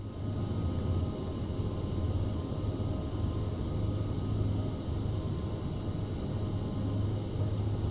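Steady roaring jet engine noise from an Aerosoft CRJ regional jet on its takeoff climb in a flight simulator, a constant loud broadband rumble with a low hum and no talk over it.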